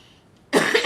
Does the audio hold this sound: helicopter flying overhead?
no